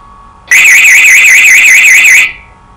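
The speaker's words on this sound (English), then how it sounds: "The beta warning horn will sound if the gate is raised in flight." Beta warning horn in a Dash 8-400 cockpit gives a single loud, warbling electronic tone that lasts about two seconds and then cuts off, over quiet background hum.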